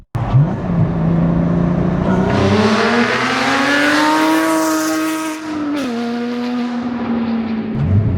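A Porsche GT4 sports car engine screams up through the revs, then blips sharply with automatic rev-matching between shifts, the pitch dropping and jumping back, loud and close from inside.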